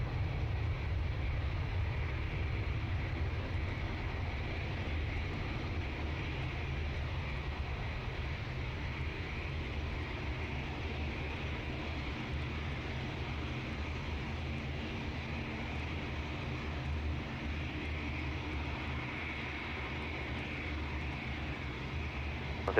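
An airliner at Manchester Airport holds short before takeoff, its jet engines giving a steady, broad rumble and whine that stays fairly even from moderate distance, with no voices.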